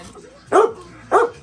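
Small poodles give two sharp, separate barks about half a second apart, fairly close indoors over a quiet background.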